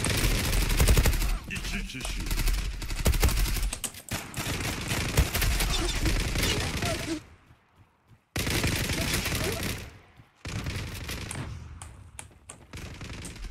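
Gunfire in the PUBG video game, with rapid bursts of automatic shots close and loud, broken by two short near-silent pauses, then more volleys, with faint talk in the background.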